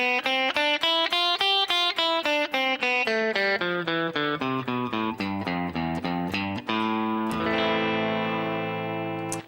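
Electric guitar with a distorted, effects-laden tone playing the A natural minor scale up and back down in even, steady notes, ending on a sustained chord; close and loud, no talking.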